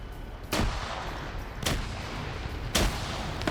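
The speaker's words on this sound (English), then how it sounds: "Another grenade gets thrown up." Three heavy, booming blasts from grenades land about a second apart in a PvP shooter game, each a sharp thud over a constant rumbling battlefield background.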